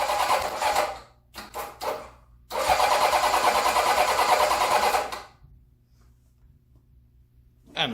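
A Honda CB750 cafe racer's starter motor cranks nearby: several short whirring bursts, then one sustained grind of a few seconds that stops abruptly into quiet.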